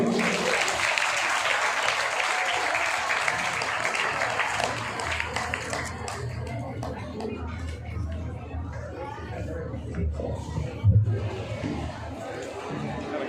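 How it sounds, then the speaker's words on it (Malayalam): Steady audience applause at an Onam function honoring a guest doctor, filling the first half and then thinning into a murmuring crowd with voices mixed in. "എല്ലാവർക്കും ഒരു കൈയടി കൊടുക്കാം."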